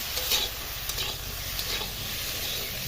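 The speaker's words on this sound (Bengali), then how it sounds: "ভালো করে ভাজা হয়ে গেছে" Taro and fish curry ingredients sizzle steadily in a pan, with occasional soft scraping and stirring scrapes rising over the constant hiss.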